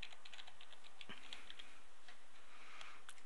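Quiet keystrokes on a computer keyboard as a password is typed, a steady run of light, irregular clicks at close range with no voices.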